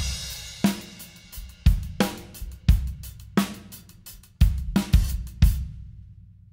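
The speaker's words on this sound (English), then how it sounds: "it starts off with a 16th note feel played up on the hi-hat" A drum kit plays an intro groove, with a steady 16th-note hi-hat over punchy kick and snare hits, close and loud, with no talk.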